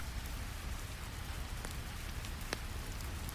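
Steady rain pours down evenly, a dense continuous hiss with occasional louder drops or taps, heard close and alone without any voices.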